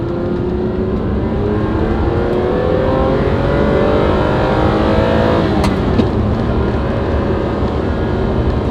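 A Ferrari 456 V12 engine revs hard and close, its pitch sweeping upward through sustained acceleration with a steady, loud roar and no talk over it.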